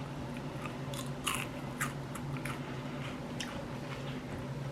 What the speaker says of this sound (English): So they should be crispy and they should be crunchy.